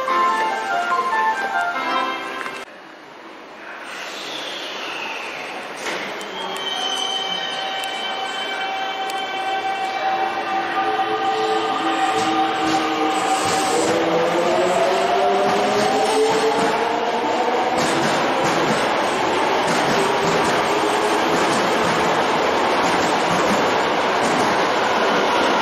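A Toei Asakusa Line 5300 series subway train arriving at Shimbashi: after a brief quiet dip, the motor whine climbs and falls in tonal sweeps, with rumbling wheels and brake noise building as the train slows to a stop.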